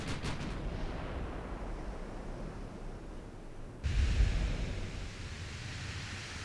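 Enemy warship guns fire in the naval battle game Ultimate Admiral Dreadnoughts, a single deep boom breaking in partway through over a constant low rumble of sea and engine noise.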